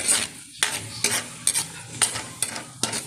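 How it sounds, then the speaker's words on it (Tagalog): Onion and garlic sauté in a pan for Valenciana, a steady sizzle broken by about seven sharp scraping stirs at a fairly even rhythm, close and clear with no talking. "nagisa na po natin ang ating sibuyas at bawang"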